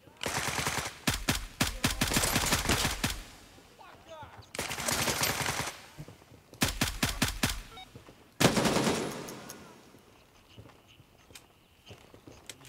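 Rapid automatic gunfire in the Gray Zone Warfare military shooter, several dense bursts of close shots broken by short pauses, loud and sharp, with some talk in between.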